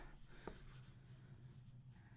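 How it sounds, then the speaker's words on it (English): Pen or pencil scratching out a short handwritten note on paper, a soft continuous rubbing scrawl with one brief tap near the start, quiet and close, under a low steady background hum. "I'm going to write down leadership so I don't forget."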